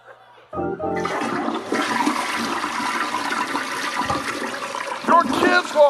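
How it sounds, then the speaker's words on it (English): A toilet flush bursts in after a moment of quiet and keeps roaring at close range, a long turbulent rush of water that swells again near the end. "That's the longest flush I've ever heard in my life."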